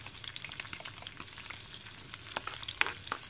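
Chopped garlic, green chilli and chana dal sautéing in a pan, a soft continuous sizzle broken by light crackles and the scrape of stirring, with no one talking.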